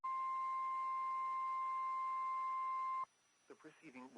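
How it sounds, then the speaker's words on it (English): A National Weather Service warning alarm tone from a weekly test broadcast sounds as a steady, loud, unbroken high beep that holds for about three seconds and then cuts off, followed by a brief spoken voice. "The preceding was a test of the National Weather Service warning alarm tone."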